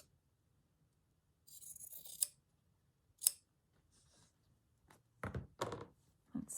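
Scissors trim fabric for a slow-stitch hare's forearm in a few short snips with small clicks between them, near and fairly quiet.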